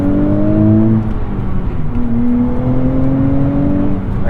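Engine of a 2023 Nissan Z with six-speed manual revving steadily, a loud sustained drone with smooth rising and falling pitch and a hint of rev hang, with no talking.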